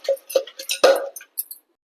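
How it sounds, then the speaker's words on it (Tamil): A utensil mashes cooked black nightshade greens in a metal pan, giving a few irregular clinks and scrapes close by that fade to silence. "இப்போ கீரையை மசிச்சுக்கலாம்."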